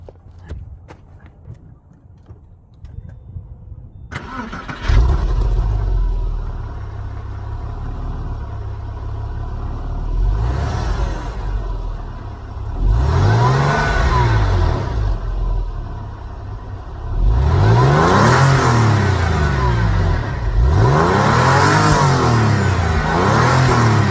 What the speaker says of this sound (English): I'm going to give you guys a quick startup. That way you can hear the stock exhaust sound.